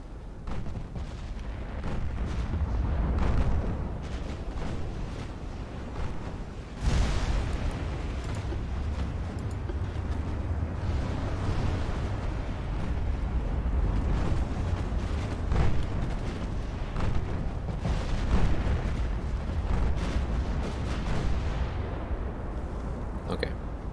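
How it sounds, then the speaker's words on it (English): Heavy naval gunfire from 20-inch battleship guns in the warship game Ultimate Admiral Dreadnoughts: loud booming blasts and rumbling explosions roll continuously, with a sharp salvo standing out partway through. "If I can land one hit with the 20-inch guns."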